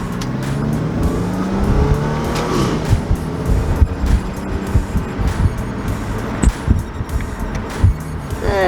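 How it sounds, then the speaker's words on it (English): Supercharged Audi B8 S4 pulling away hard from first gear, close engine roar rising through the revs with a supercharger whine layered over it, plus some bumps and clatter, with no voices. "we're going to pull out from first gear here"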